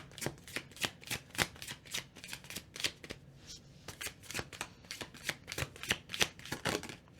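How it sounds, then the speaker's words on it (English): Tarot cards are shuffled in a rapid series of crisp riffling bursts, close and fairly loud, with brief pauses between them. "I'm going to shuffle one more time."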